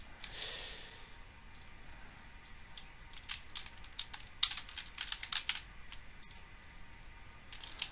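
Quiet, close typing on a computer keyboard, irregular clusters of light key clicks with short pauses and soft breathing between them.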